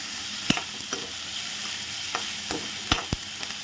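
Onions frying with salt in a pan, a steady soft sizzle with a few sharp spoon-against-pan clinks and stirring scrapes scattered through, close and alone with no talking.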